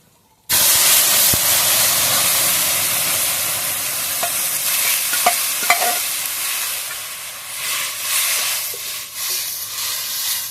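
Boiled chana dal with a pinch of turmeric is poured into a hot pan and hisses in a steady loud sizzle, with scattered scraping clicks of stirring throughout and no talking.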